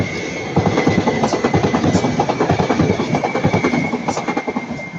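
Class 331 electric multiple unit 331-106 bound for Crewe passing at Ardwick, a loud, close rhythmic clickety-clack of wheels over rail joints with a steady electric whine, running throughout with no talking.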